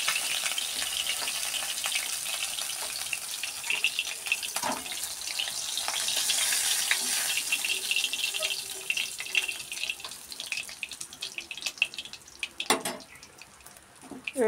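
Fish frying in oil in a home kitchen, a steady bright sizzle running throughout, with occasional sharp clinks and stirring knocks rising above it near the end.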